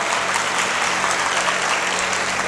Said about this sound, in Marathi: महिला मंडळ एकदा तुम्ही आबांसाठी जोरदार टाळ्या वाजवा